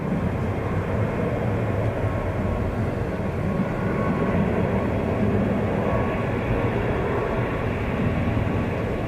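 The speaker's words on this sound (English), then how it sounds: "Is that our Aegean Neo coming in shot?" Aegean Airbus A320neo airliner arriving at Zurich Kloten Airport, a steady broad engine roar at constant loudness filling the whole stretch, no voices over it.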